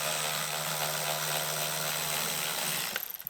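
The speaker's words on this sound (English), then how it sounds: "these air filter housings, so they shouldn't really rattle about like that" Air filter housing rattling loose in the engine bay of a Peugeot Citroen 1.6 HDi diesel, a steady buzzing vibration with a droning hum underneath, close and continuous before ending in a few sharp knocks.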